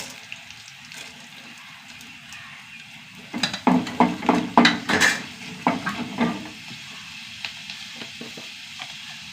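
A teaspoon each of chana dal and urad dal sizzling in hot oil: a steady frying hiss with a mid-stretch flurry of loud crackles and spoon-stirring scrapes against the pan.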